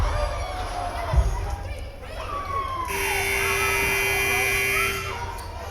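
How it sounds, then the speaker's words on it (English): Long electronic buzzer at a girls varsity volleyball match in a gym, a steady loud tone lasting about two seconds over crowd murmur and an announcer's voice. "And we have our buzzer to begin set number 3"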